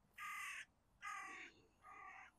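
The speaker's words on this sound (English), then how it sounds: "Got some crow taking an interest in me, not the drone for change." A crow near a construction site gives three loud, harsh caws spaced about half a second apart, the last one somewhat weaker, standing out clearly over a quiet background hum.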